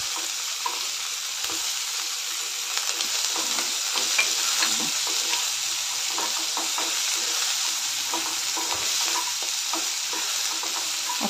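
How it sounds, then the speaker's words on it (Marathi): Dalia upma with mixed vegetables and green peas sautéing in a pan, a steady broadband sizzle with frequent scraping stir strokes throughout, close and fairly loud with no voices. "सर्व घालून चांगलं परतून घ्यायचं"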